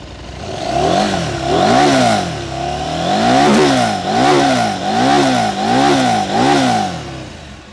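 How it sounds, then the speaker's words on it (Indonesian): Loud, close revving from a KTM 890 Adventure R two-cylinder motorcycle: the engine is blipped repeatedly in a rhythmic series of rising and falling throttle bursts, with raspy exhaust resonance between each rev. "Ketika digeber tuh dari knalpotnya ada feedback feedbacknya ya, ada sember-sembernya gitu."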